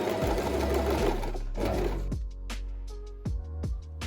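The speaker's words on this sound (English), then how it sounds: "we're gonna sew along this line" A sewing machine stitches the welt pieces of a straight-leg pants back pocket along a marked line, running in steady bursts with short pauses and restarts, close and clear with no talking.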